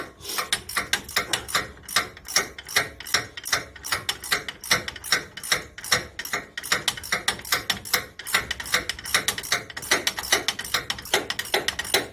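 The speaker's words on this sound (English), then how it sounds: "Some people call it ratchet." Ratchet wrench clicking in rapid, rhythmic bursts during a front wheel bearing replacement on an Isuzu Rodeo, close and loud with brief pauses between strokes and no talking.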